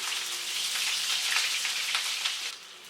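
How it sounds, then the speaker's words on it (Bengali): Cauliflower pieces frying in oil over high heat, a loud, dense, continuous sizzle close up with no talk, easing slightly at the very end. "এগুলাকে একটু ভেজে নিব হাই হিটেই ভাজবো"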